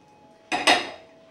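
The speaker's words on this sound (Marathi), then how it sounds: "तेल पसरवतीये मी." Oil is spread across a hot griddle (tava), making two quick metallic scraping swipes in close succession against an otherwise quiet background.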